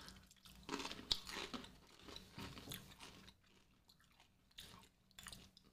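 Crunchy Parm Crisps cheese snack mix is chewed close up, with irregular crisp bites and crunches between quiet pauses and no talking.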